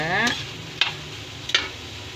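Cooked sikadsikad shellfish are stirred in a pan for sisig. A spoon scrapes and knocks against the pan three times over a low sizzle, with a brief tonal sweep at the start.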